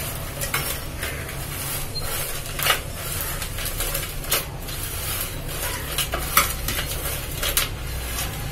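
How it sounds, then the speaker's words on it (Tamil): Dried cluster beans being tossed by hand with salt and curd, a close, steady rustling and scraping against a metal vessel with brief clinks and a faint underlying hum, no voices. "இதுல நம்ம உப்பும் தயிரும் போட்டு பிரட்டி வச்சிடலாம்"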